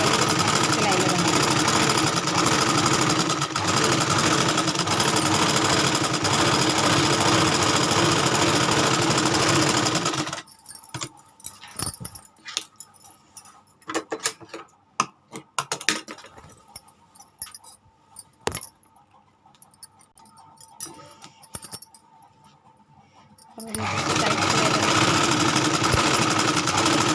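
An electric sewing machine stitching a suit whirs loudly and steadily at close range, pauses for a quieter stretch with scattered handling noises, then starts running again at the end.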